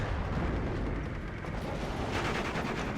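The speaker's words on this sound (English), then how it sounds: "And Gnef's units all pocketed in a very small area. Down comes the bombs." Bombs from an Me 410 A1 aircraft bursting over pocketed units in Steel Division 2, heard as a continuous, heavy, rumbling blast with crackling debris throughout.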